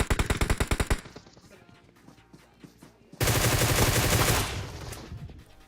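Groza rifle fire from PUBG Mobile: a rapid burst of loud automatic shots, then quieter distant firing, then a dense sustained burst that trails off.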